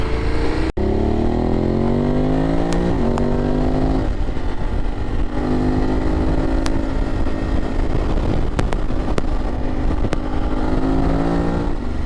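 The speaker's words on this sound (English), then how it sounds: "You can bang through that quick shifter, go through third, fourth, fifth, sixth" A BMW GS 850 Sport motorcycle accelerating hard, its engine note climbing steadily through repeated quick-shifter upshifts, each change marked by a brief dip before the pitch rises again; loud, close and continuous throughout, with no one talking.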